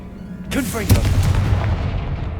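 A Confringo spell blast in Hogwarts Legacy, a single sharp fiery burst that flares up and then rumbles away into a rolling boom, with a voice calling out at the moment of casting.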